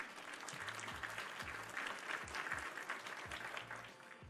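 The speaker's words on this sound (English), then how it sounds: "Let's get a round of applause for Roberta Pulse." A round of applause at a livestream, with steady light clapping that stays faint and distant throughout and a low voice speaking under it.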